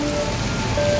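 Heavy mountain rain pours in a dense, continuous hiss close by, loud and unbroken with no voices.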